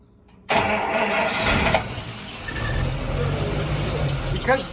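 A 1948 Buick Roadmaster Woodie estate wagon engine cranks and catches abruptly after a quiet moment, then runs at a steady rough idle, close and loud, with a voice briefly talking near the end.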